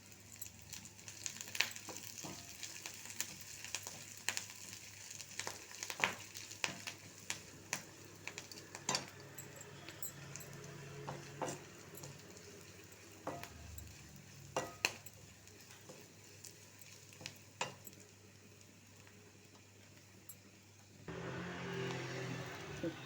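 Groundnut-oil tempering poured into pumpkin kootu sizzles steadily throughout, with scattered sharp pops and crackles, then a louder burst of hissing near the end.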